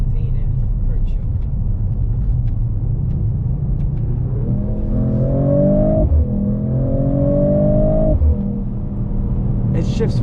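A 2026 Mercedes-Benz CLE 53 AMG accelerates in comfort mode, its engine drone rising in pitch through two gear changes over a constant road rumble, with people talking in the cabin.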